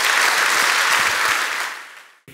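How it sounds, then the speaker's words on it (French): An audience at the Grand Prix de l'Economie event in Geneva applauds loudly as Vincent Subilia comes on stage, dense sustained clapping that fades away near the end. "sous vos applaudissements."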